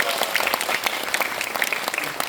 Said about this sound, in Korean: 황경 감독님 박수 한번 부탁드리겠습니다